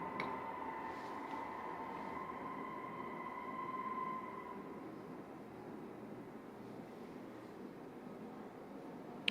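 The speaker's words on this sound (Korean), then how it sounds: "원래는 이런 소리가 이제 지하철이 들어오고 이런 소리가 나는데" Electromagnetic field recording made on a subway platform as a train arrives: a rumbling, noisy electrical wash with sustained whining tones that hold and then fade while the broad drone continues.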